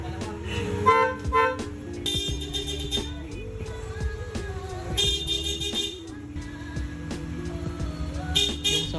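Repeated loud honking bursts from an aftermarket super loud motorcycle horn, blaring at close range in short blasts and longer holds with mechanical clicks between.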